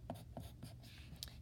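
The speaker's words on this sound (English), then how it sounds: "Write the word light on this side" A pencil writes a word on paper in a few faint, close scratchy strokes, quiet and brief with no talking.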